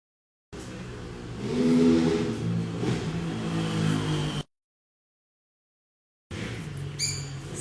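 A passing vehicle with an engine rising then fading, heard through a car, loud for about four seconds, then silence, then engine sound returning near the end with a few high chirps.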